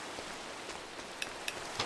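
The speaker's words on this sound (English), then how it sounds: "Oh, some nice rain." Rain falling in the video game Minecraft, a soft, even patter that stays faint and steady, with a few slightly sharper drops standing out.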